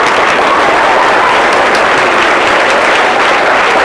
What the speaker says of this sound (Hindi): तो सीए के हस्ताक्षर के लिए एक बार जोरदार तालियां।